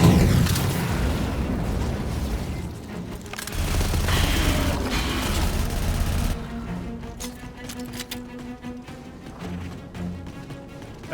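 Explosions in the video game Aliens: Fireteam Elite 2 come as heavy booms and bursts of gunfire over the first six seconds, then settle into quieter, scattered combat noise.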